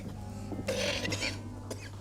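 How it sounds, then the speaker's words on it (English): A single sharp cough breaks out partway through a murder-mystery audio drama, followed by a brief rough throat sound, over a low steady hum. "I would see a doctor about that cough."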